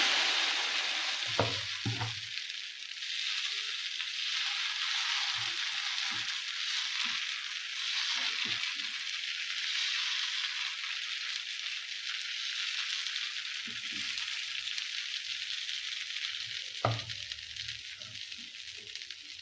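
Rice and poha dosa batter sizzling on a hot pan, a soft continuous hiss with occasional light taps and spatula scrapes, fairly quiet and close, with no voices.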